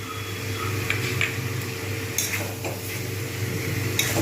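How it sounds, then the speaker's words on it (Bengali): Chicken pieces fry with spices in a pan for a potato chicken curry, giving a steady, moderate hiss with a few light clinks of a utensil against the pan. "চিকেনটা সুন্দর করে ভাজা হচ্ছে।"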